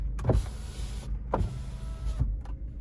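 Electric power windows on a 2004 Opel Zafira whir up and down in three separate motor runs, each a close, steady hum ending in a soft thunk as the glass stops.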